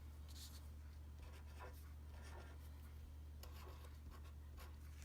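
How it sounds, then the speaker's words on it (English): A pen scratches numbers onto paper for a Venn diagram. The short scribbling strokes come in faint bursts over a steady low hum, close up, with no talking. "So I'm going to write those on top of my Venn diagram."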